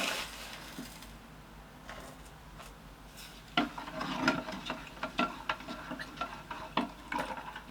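Citric acid is stirred into lye solution in a jug for dish soap: quiet scraping and rubbing at first, then sharper close clinks and taps of the utensil against the jug that grow louder and more frequent.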